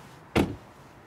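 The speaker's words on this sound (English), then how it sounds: "You can close the door." The door of a 2022 Mercedes EQS electric car closes with a single short, firm thud close by, with quiet surroundings before and after.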